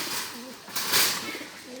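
A pigeon coos softly at close range, several rounded low calls repeating over a short span with a hiss of background noise.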